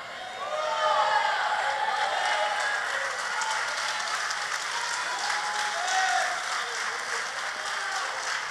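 An audience applauding during a church sermon, sustained clapping from a large crowd with scattered voices and cheers, rising quickly then holding steady.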